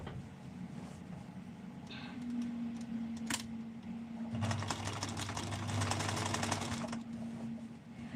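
A sewing machine runs in short bursts while top stitching, a fast mechanical rattle that starts, stops and restarts, fairly quiet and close, with no talk.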